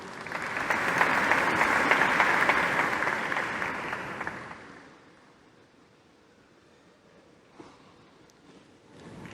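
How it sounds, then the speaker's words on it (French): An audience applauding at an International Women's Day award ceremony in Mauritius, a dense burst of clapping for about five seconds that fades out, followed by quiet room noise. "Encore une fois, applaudissements."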